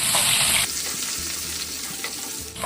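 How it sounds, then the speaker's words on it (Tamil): Steady, close sizzling of shallots and garlic frying in hot oil, a continuous crackling hiss with occasional stirring, no voices. "சின்ன வெங்காயத்தையும் பூண்டு பல்லையும் எண்ணெயில நல்லா வதக்கிக்கிறோம்"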